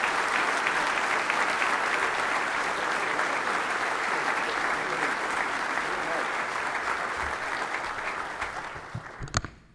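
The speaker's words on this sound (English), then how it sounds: "one more resounding round of applause for Colonel Warlick" A large keynote audience gives Colonel Warlick a sustained round of applause, a thick, loud wall of clapping that tapers slightly near the end before a few sharp knocks close it out.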